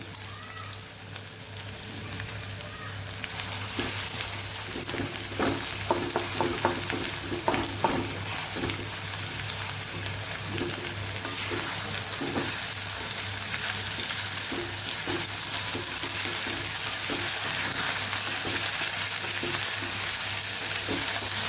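Potatoes with green chilli, garlic paste and salt sautéing in a pan for a ridge gourd and potato curry, giving a steady sizzle throughout with a scatter of utensil scrapes and stirring clinks.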